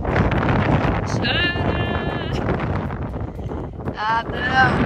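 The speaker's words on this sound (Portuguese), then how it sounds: "Eu tenho que gritar por causa do vento." Strong wind buffets the microphone on a coastal trail near Pedra Furada in Jericoacoara, Brazil, a loud, continuous roar throughout, with people shouting over it.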